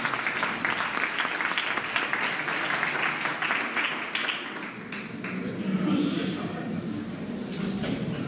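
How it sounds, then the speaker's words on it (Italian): Audience at a Christmas mini-festival concert applauding after a piano performance, sustained clapping that thins out partway through as a voice speaks over it. "Un applauso."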